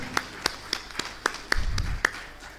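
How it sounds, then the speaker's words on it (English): At a panel discussion on good governance and economic justice, a sparse handful of claps sounds out, about eight sharp separate claps with gaps between them, faint and thin rather than a full round of applause. "Can we all give them a round of applause?"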